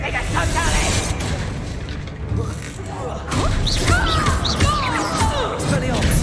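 Booming blasts from the Bombarda explosion spell in Hogwarts Legacy, several heavy bursts and crashes in quick succession amid combat noise, with spoken incantations and other voices mixed in.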